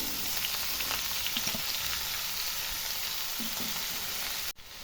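Chopped beto greens hit a pan of garlic fried until reddish, giving a soft, even sizzle at moderate distance with faint stirring clicks.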